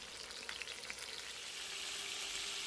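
Dried fish and garlic fry in oil with a constant bright sizzle and a few small pops early on, heard close up at moderate volume without any talking.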